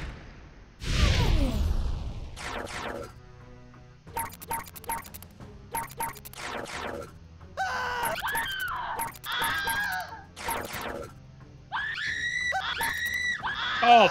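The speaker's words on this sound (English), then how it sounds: "I did hear a lot of screaming." Loud screaming from a video game, several voices shrieking in repeated bursts over rumbling game noise, with whooshing and crash-like effects between the cries.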